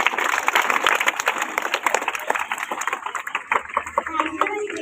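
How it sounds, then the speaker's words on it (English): Students at a morning school assembly in Delhi applaud together, a dense burst of clapping that thins out and fades toward the end. "Once again, a clap."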